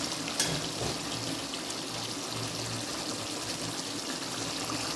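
Water poured steadily into a simmering curry with green chillies, a continuous soft trickling and pouring wash that runs evenly throughout, close and moderately loud with no talking.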